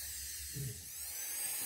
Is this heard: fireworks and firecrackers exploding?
no